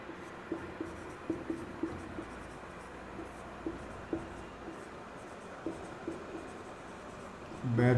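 Chalk or marker writing on a board during a physics lesson, a series of short scratchy taps and strokes at an uneven rhythm, moderately close, with a louder knock at the end.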